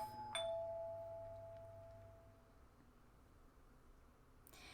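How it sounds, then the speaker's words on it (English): A doorbell rings once, faintly, with a bright tone that slowly decays into a quiet, hissing room. "And then, the doorbell rang, again."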